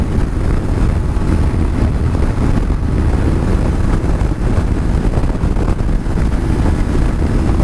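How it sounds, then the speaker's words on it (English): Heavy wind buffeting roars steadily against a motorcycle helmet while riding a Suzuki V-Strom 250 at speed, a loud continuous low rumble with no breaks and no talk. "I'm not getting a lot of wind from the front, but golly, I'm getting a lot of wind from the sides"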